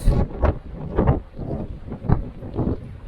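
Strong gusty wind buffeting the microphone on the North Devon coast between Hartland Quay and Hartland Point, coming in repeated surging blasts.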